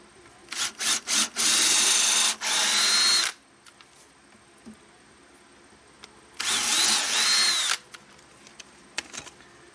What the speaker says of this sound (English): And then I'm going to drill through.